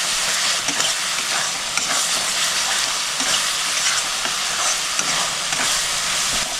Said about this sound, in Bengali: দুই থেকে 3 মিনিট মশলাটা ভালো করে কষাই নেব।